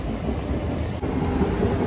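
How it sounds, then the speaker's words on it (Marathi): A train rumbles past close by during a rain-damp Navratri festival night, a steady heavy low roar with rattling wheels filling the whole stretch, no voices. "ट्रेन चालले बाजूने"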